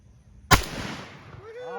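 A shotgun blast goes off once during a backyard game of shotgun croquet, a sharp, loud crack followed by a long decaying rumble and rattle of debris.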